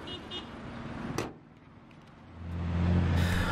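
A 2018 Honda CR-V with its 1.5-liter turbo engine, heard as a low car-engine drone that dips briefly and then swells into a steadier, louder running hum, close by with no talk.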